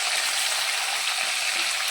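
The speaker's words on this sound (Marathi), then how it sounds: "टोमॅटो चांगला फ्राय करून घेऊया" Tomatoes fry in a pan for a Maharashtrian stuffed brinjal dish, giving a steady, close hiss of sizzling oil that runs evenly throughout with no talking.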